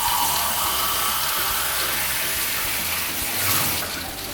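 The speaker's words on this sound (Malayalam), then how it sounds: "എന്നിട്ട് അതിലേക്ക് ഒരു ഗ്ലാസ് വെള്ളം കൂടി ചേർക്കാം" A glass of water is poured into a pan of chicken soaking in vinegar, a loud, continuous splashing gush that runs steadily throughout with no talk.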